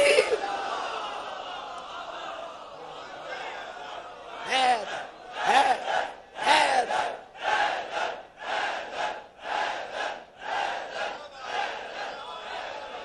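A large crowd at a Muharram majlis chants religious slogans in loud, rhythmic unison, about eight forceful call-and-response bursts repeating steadily with a brief voice before them.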